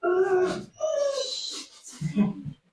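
A dog growls and whines in a low, tense run of rumbling and higher whimpering tones, close and fairly loud, then a final short grumble trails off into quiet.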